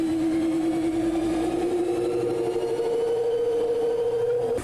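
A rug cleaning machine runs steadily at a set speed, its motor giving a continuous, loud hum whose pitch holds level and rises slightly near the end, with no talking.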